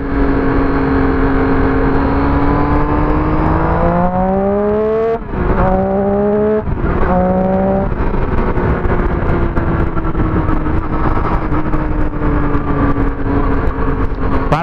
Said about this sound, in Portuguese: Passa da maldade, o cara nem escuta a motoca chegando.